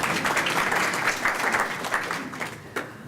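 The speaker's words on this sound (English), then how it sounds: "please give a round of applause to yourselves." An audience at a 2014 Human Development Foundation event claps in sustained, even applause filling the room for a few seconds.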